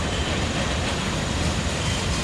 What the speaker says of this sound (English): once that train gets by you